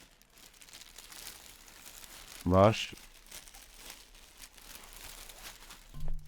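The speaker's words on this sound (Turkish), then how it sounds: "Şöyle bir poşeti var ve poşetin içinde de bir tane nem emici" A plastic bag crinkles in one short, sharp, close rustle while a Dell laptop backpack is unpacked, with a quiet room and a brief spoken word nearby.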